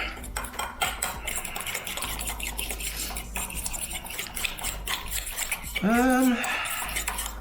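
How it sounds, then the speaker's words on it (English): A utensil scrapes and clinks steadily against a bowl while stirring a mustard, egg and pepper mixture, close and busy, ending in a brief ringing metallic tone. "And let's keep mixing that up a little bit more."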